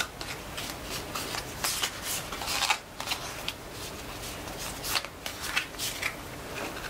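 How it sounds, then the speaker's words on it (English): Tarot cards, a small deck, being shuffled by hand, repeated crisp riffling and flicking bursts in uneven rhythm, close and fairly quiet. "One more time, I'll just shuffle them like this little tiny deck."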